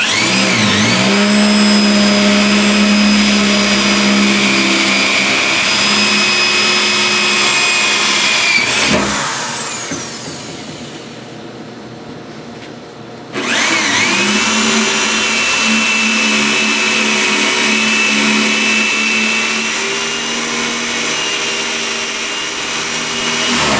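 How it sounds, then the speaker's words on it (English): Power drill boring holes for mounting a fixed laser on a linac, a loud sustained high whine that pauses briefly, then resumes at full strength and runs on steadily. "Now we're going to drill the holes that we marked."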